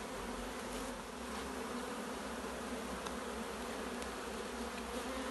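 Honey bees buzzing steadily around a brood frame lifted from a hive, a dense continuous drone close to the microphone with no voices.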